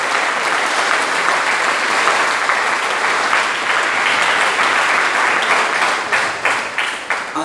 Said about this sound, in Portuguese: Se é para Jesus, pode aplaudir bastante.